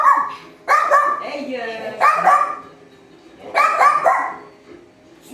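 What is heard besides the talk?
dog barking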